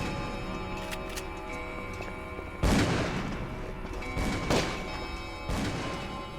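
Gunfire in Call of Cthulhu: Dark Corners of the Earth comes as three loud, spaced shots, each a sharp bang with a brief rumbling tail, set against a quiet ticking background with no talking.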